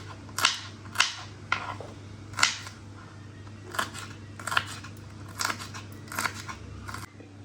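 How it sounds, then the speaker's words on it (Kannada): Green chillies being chopped finely with a knife, giving a string of sharp, crisp cuts in irregular bursts, close by, with a low steady hum underneath and no voices. "ಮೆಣಸಿಕಾಯನ್ನ ಹೆಚ್ಕೊತಾ ಇದ್ದೀನಿ ಮೆಣಸಿನ್ಕಾಯಿ ಸಣ್ಣದಾಗಿ ಹೆಚ್ಕೋಬೇಕು"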